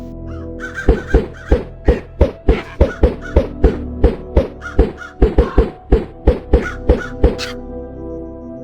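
Ravens in Minecraft with the Nico's Mobs addon caw loudly and close by, a long run of about twenty sharp, harsh calls in an uneven, quick rhythm, with no other sound around them.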